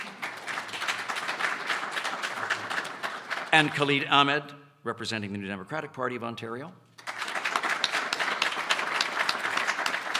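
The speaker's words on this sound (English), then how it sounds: "You can applaud." Applause at an all-candidates election forum, clapping from the audience at the start, then a voice speaking alone, then the clapping resumes and continues strongly to the end.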